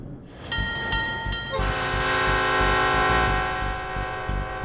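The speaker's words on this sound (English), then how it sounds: "A train rumbles out of town" A train rumbling out of town, with a loud horn sounding over the deep rolling rumble of the cars, sustained and close, the horn shifting pitch partway through.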